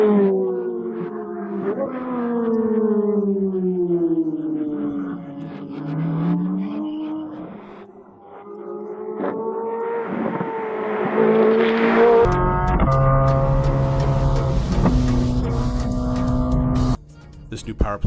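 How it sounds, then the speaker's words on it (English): A Corvette C8 Z06 with a flat-plane-crank mid-mounted engine wails around the Nürburgring, its high-pitched scream rising and falling through gear changes, then swelling louder and harsher as the car passes close by. "This new power plant has a flat plane crank that gives the C8 a less choppy and much higher scream than its predecessors"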